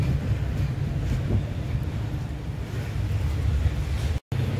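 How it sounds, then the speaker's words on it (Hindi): Strong, cold wind blows steadily at night outdoors, a continuous low rumbling roar buffeting the microphone for nearly the whole stretch, broken by a brief cut near the end. "इतनी तेज हवा चल रही है"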